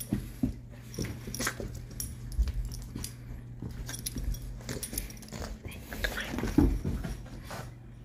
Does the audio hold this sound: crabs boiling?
no